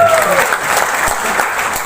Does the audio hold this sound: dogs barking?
no